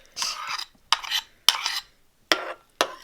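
A heavy tablespoon stirring and scraping lumps out of a mixture in a bowl for a vegan sauce, five separate bursts of clinking, scraping strokes with short pauses between them, close and clear.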